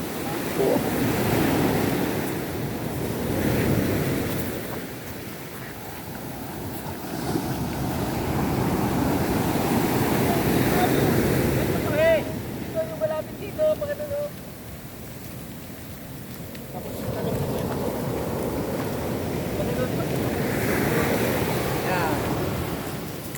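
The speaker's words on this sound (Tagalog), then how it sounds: "the big waves is coming." Big ocean waves roar and surge in long swells onto the shore at Casiguran, Aurora, with heavy wind rumbling across the microphone and brief faint voices partway through.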